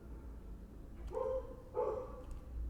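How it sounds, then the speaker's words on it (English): Two short dog barks about a second apart in the game Raging Loop, somewhat distant, over a low background hum. "all of a sudden some random like dog barking or something"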